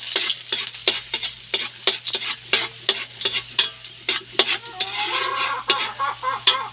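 Garlic sizzles while frying, with a crackling hiss under repeated close stirring scrapes and taps of a utensil against the pan.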